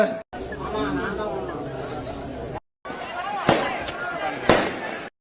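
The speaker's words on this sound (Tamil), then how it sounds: "தம்பி எதுக்குப்பா பட்டாசு வைக்கிறீங்கப்பா" Crowd chatter fills the scene, then a few sharp firecracker bangs burst out one after another, loud and close, over continuing voices.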